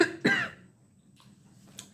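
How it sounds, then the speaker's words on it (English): A single sharp indoor cough from a woman, close to the microphone, followed by a quieter throat-clearing sound. "Excuse my cough."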